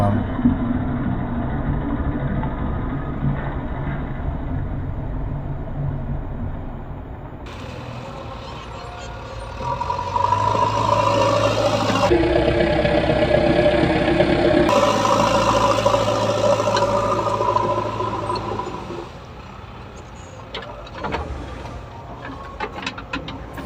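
A JCB excavator engine runs near a brick kiln, giving a steady, droning mechanical hum that swells louder midway, then eases back.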